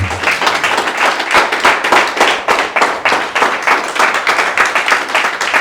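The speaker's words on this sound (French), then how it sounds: "Est-ce qu'on peut encore acclamer très fort le Seigneur?" A church congregation applauds the Lord with loud, rhythmic clapping that pulses steadily throughout, full and close, with no talking over it.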